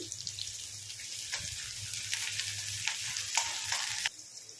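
Curry leaves crackle and sizzle in hot oil in a close, steady hiss, with a few sharper pops. The sound drops off abruptly near the end.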